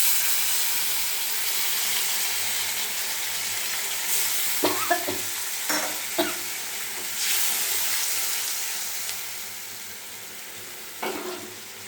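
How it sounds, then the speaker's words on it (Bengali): Onion, garlic and masala sizzle in a hot pan after a splash of water is added, giving a steady close frying hiss broken by a few sharp stirring clinks and scrapes. No one speaks. "এবার আমি মশলাটা কষানোর জন্য একটু জল দিয়ে দেবো"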